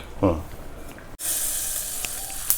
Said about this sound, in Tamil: கடுகு தாளிச்சு கொட்டுறேன். கடுகு உளுத்தம் பருப்பு.